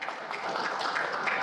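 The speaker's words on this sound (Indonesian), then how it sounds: "tepuk tangan untuk Pak Narko ya" Brief applause from an audience for retired Major General Soenarko: a continuous crowd patter of hand claps, fairly even and mid-distance, rising slightly toward the end.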